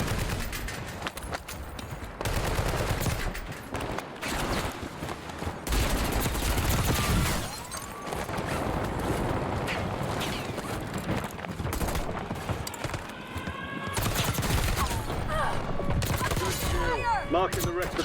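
Gunfire in the battle royale game Warzone: dense bursts of shots and rapid fire mixed with game noise, fairly loud and continuous for much of the stretch, with a few brief lulls and a voice heard in the mix.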